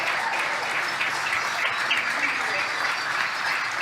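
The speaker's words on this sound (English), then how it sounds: "As you can tell by the cheers behind us, we can confirm that the Dragon capsule with the AX-1 crew has splashed down." Distant crowd cheering and applause for the Dragon capsule carrying the AX-1 crew as it splashes down, a steady, dense wash of clapping and voices lasting throughout with no single standout peak.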